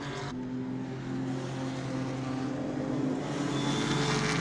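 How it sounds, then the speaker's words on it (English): A Morgan sports car races past on the Donington Park circuit, its engine note rising and sustained as it goes by, heard from trackside at moderate distance with no talk. "Wonderful sound of that Morgan going through"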